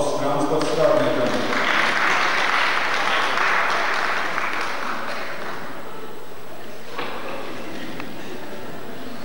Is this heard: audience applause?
yes